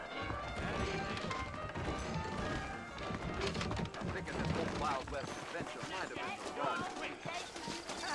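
Saddled horses trot in the Western video game Red Dead Redemption, their hoofbeats a busy, steady clatter largely buried beneath continuous conversation between riders.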